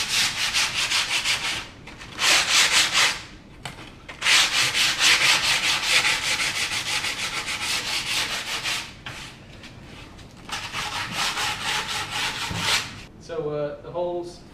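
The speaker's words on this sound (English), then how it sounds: "So take some sandpaper and the all the sharp edges." Sandpaper rubbed by hand along the sharp cut edges of a chipboard worktop sink cut-out, in repeated loud close scratchy strokes separated by short pauses, with a voice briefly at the end.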